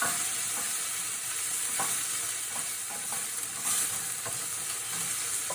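Steady crackling sizzle of olive tapenade spaghetti frying in a pan, with occasional scraping taps from stirring, close up and without talk.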